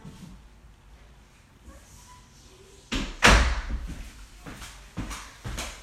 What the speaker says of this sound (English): and I shut a door